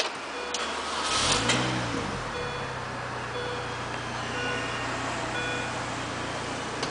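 A BMW Mini Cooper S Convertible engine cranks briefly and catches, then settles into a steady low idle hum that continues to the end.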